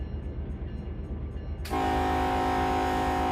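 A locomotive horn in Run 8 Train Simulator blasts in loud and sustained after a quiet stretch of low engine rumble, holding steady to the end without any voices.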